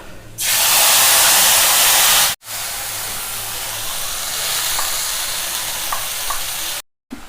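Crushed cardamom, black pepper and cloves hit hot oil for a Bengali fish curry, bursting into a loud, bright sizzle that settles into a steady frying hiss after a short break, with faint clinks and no voices.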